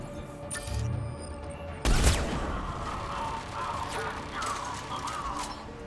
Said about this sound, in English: I hear that turret.